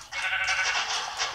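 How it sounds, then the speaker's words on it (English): A single sheep bleats in the video game Minecraft, one wavering, nasal baa lasting just over a second, fairly faint and heard alone. "You're another sheep."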